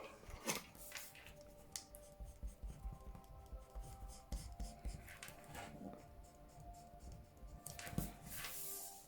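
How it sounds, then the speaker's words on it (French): Eraser rubbed on paper while making a paper beach cabin craft, a series of close, quiet scratchy strokes in irregular bursts with light paper rustling. "On va gommer."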